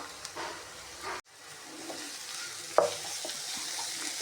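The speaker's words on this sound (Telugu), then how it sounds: "ఇందులోకి పచ్చిమిర్చి అల్లం పేస్ట్ వేసుకొని ఇవి కూడా వేయించుకోవాలి" Onions fry in a pan with green chili and ginger paste, giving a steady close sizzle broken by stirring scrapes and a few sharp taps, with a brief drop partway through.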